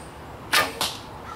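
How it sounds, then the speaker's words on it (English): An arrow released from a Samick Sage recurve bow, heard as two sharp whooshing snaps a quarter second apart, the release and then the strike or flight, loud and close with no talking. "that arrow flew real straight and I could actually see the feathers rotate through"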